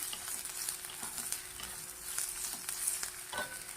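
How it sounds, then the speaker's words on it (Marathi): Sliced onion sautés in hot oil in a pan, giving a steady soft sizzle broken by faint scrapes of stirring. The sound is quiet and close, with no voices. "फक्त एकदा कांदा परतून घेऊया थोडासा"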